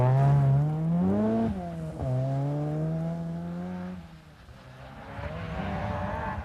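A 1990 Circuit of Ireland rally car on a stage, its engine note falling as the driver brakes hard and then revving back up, loud and close, with a steady roar throughout.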